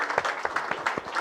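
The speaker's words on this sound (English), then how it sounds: "I think let's clap for the association." Scattered audience clapping at a cardiology society's scientific meeting, with individual claps standing out clearly in an uneven rhythm, close and moderately loud, heard alone without talk.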